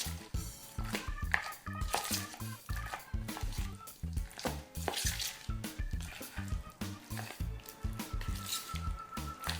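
A spoon stirs Wilton candy melts in a bowl, making a continuous run of close, rhythmic scraping and soft squishing strokes throughout.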